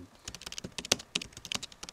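Light, quick clicks of typing on a computer keyboard, irregular keystrokes tapping close by and fairly soft.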